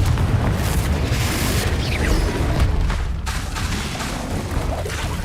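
Confringo explosion spells cast in the Hogwarts Legacy video game, heard as a loud, continuous wash of rumbling booms and crackling blasts that overlap without pause.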